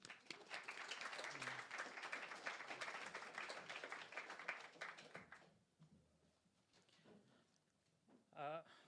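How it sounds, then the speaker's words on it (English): An audience applauds a speaker being introduced at a live games industry talk event in Edinburgh, with dense clapping for about five seconds before it fades into quiet room tone and a brief voice. "Please, everybody, give a big round of applause for Meher Kalandarian."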